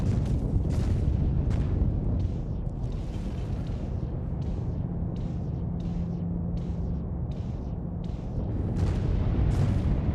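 An Idris warship fires its broadside guns in a space video game, a steady barrage of about a dozen sharp booming shots over a continuous low rumble, loud and close, with no voices.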